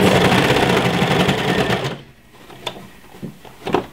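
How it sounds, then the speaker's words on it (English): An overlock sewing machine stitches over a fabric seam, a loud, fast, steady mechanical whir for about two seconds, then it stops, leaving a few soft clicks and handling sounds. "I'm actually just gonna sew a bit over the first seam"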